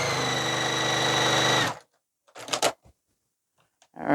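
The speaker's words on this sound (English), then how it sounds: "And sew it on." A sewing machine stitching fabric runs loud and steady with a fast mechanical hum for about a second and a half, then stops, followed by a few brief handling clatters and a short burst of noise at the end.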